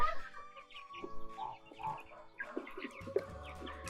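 Amrox, Livenskaya calico and Minorca chickens cluck softly and intermittently nearby while pecking grass and greens, with scattered low murmuring calls against faint background noise.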